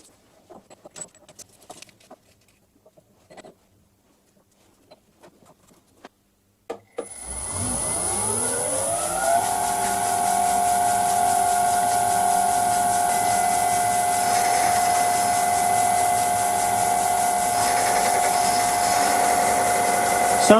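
A lathe taking a cut with a left-hand tool bit starts after a few quiet seconds of light clinks, then holds a steady loud whine with a strong sustained tone and droning harmonics until the end.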